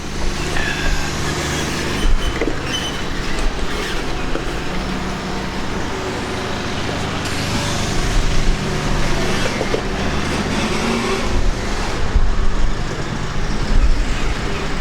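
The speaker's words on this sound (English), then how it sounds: "there's a big piece of plant machinery driving in here" Heavy plant machinery rumbles in onto a street building site, a steady loud engine drone mixed with surrounding road traffic, swelling slightly as it nears, with no talk.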